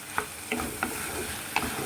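Spices fry in a pan with Kashmiri red chilli powder, a steady sizzle broken by a few sharp scrapes as a spoon stirs them, and no one speaks.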